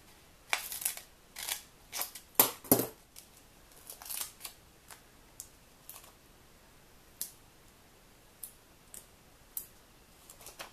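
Scissors snip paper pieces for a rainbow-themed scrap card: a close series of crisp, irregular cuts, clustered quickly at first and then spaced out, with no talking.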